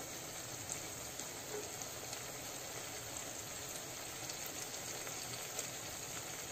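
Homemade desi ghee forms as cream simmers down in a pan and releases its fat. The result is a faint, even crackle and fine bubbling that holds constant throughout, with no talking.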